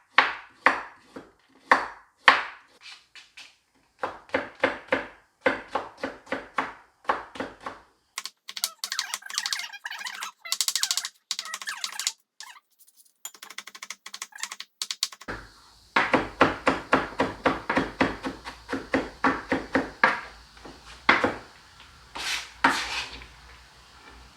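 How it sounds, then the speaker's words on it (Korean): An onion is diced and a carrot julienned with a knife while making potato croquettes, giving runs of quick, close, crisp chopping taps on a board in steady bursts, with short pauses between the batches of cuts. "양파는 다져주고, 당근 이렇게 채 썰어주시고"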